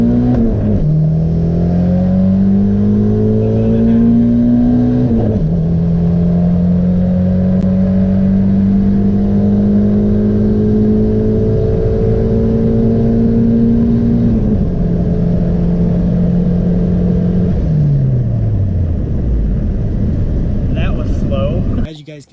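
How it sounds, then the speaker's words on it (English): A turbocharged Honda Civic accelerates hard at 7 psi of boost, its engine note rising steadily through several gear shifts with brief dips between them, loud and close throughout, then cutting off abruptly at the end. "So here's a pull with it at 7 psi."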